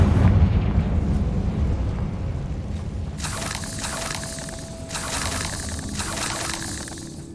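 A Confringo fire spell detonates in Hogwarts Legacy, a low rumbling roar giving way to a bright crackling, hissing burst around the midpoint, with a sustained tone and further fizzing flares trailing off.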